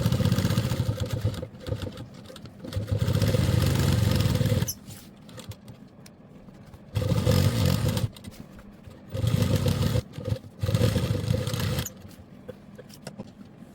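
Sewing machine stitching around the edge of a fabric wall hanging storage organizer, loud whirring bursts that start and stop repeatedly between short quiet pauses, close up.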